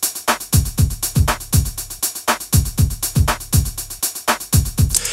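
Programmed electronic drum beat built in Reason 12, with a steady bass drum pattern and clap and snare hits on the backbeat, repeating evenly and loud for several bars with no voices.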